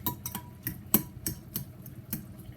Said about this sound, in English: I prefer using the fork to stir it up in.